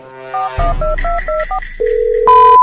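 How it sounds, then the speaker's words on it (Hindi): A telephone number is dialed: a quick run of distinct electronic keypad tones, one after another, then a longer steady tone and a final bright ringing beep, loud and close with no talking. "तुम अपने नंबर से मिलाओ जरा उसको।"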